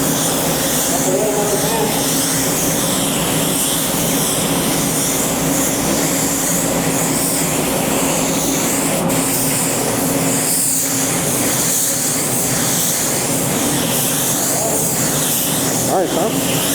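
A spray gun lays a coat of glue, giving a steady, loud, broadband hiss that runs unbroken through the whole stretch, close to the listener.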